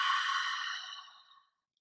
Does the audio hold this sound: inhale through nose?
yes